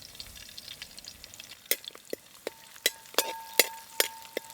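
Garlic fries in oil in a pan, with a low bubbling hiss and a run of sharp, crackling sizzle pops that grow louder and more frequent in the second half.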